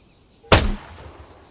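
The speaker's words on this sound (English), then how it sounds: "When you're ready, put some rounds downrange." A single loud rifle shot from Arma 3 cracks out close, then a short decaying echo follows, with no talk over it.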